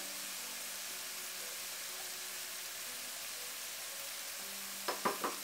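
Spices sizzling in a kadai while chole cooks, a steady soft hiss with faint faraway hum, then a few brief stirring clinks at the end.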